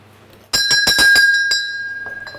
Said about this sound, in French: Ah, il y a une cloche. Sonnez la cloche, nous arrivons.